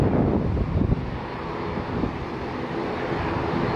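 A JetBlue Airbus A320 taking off from Fort Lauderdale, heard as a steady, broad jet roar from a distance, mixed with wind noise on the microphone.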